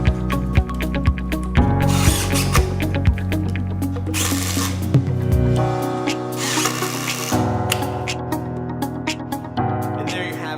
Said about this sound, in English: Let's grab the drill, let's finish this up.